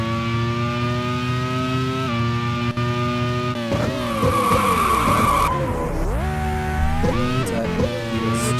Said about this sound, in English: Tomiki Ujiri has just locked up into the Villeneuve chicane and got away with it